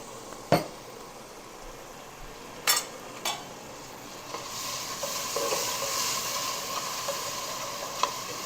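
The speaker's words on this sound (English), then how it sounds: "And I'm going to let that fry." Curried lamb frying in a pan, starting with a few sharp clanks of utensil on pan and then a building steady sizzle, close with no talking.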